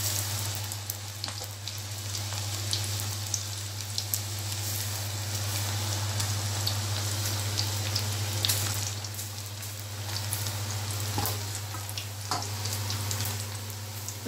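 Pakoda fritters frying in hot oil give off a steady, even sizzle with light crackles and occasional pops. The hiss holds throughout over a low steady hum, with no talking.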